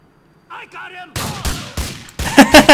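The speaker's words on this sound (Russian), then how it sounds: "Вроде по нам тут стреляют." Gunfire in Grand Theft Auto 4 comes as several loud, sharp shots in a quick irregular series, after a brief stretch of voice-like sound at the start, ending with a denser cluster of shots.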